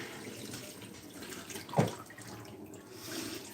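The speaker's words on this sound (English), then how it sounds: "So we're gonna let all that water and apple cider vinegar and phytic acid and enzyme inhibitors drain out of here." Water and apple cider vinegar pour out of an inverted jar through a fine mesh strainer in a kitchen, a steady trickling splash with one brief louder gush partway through.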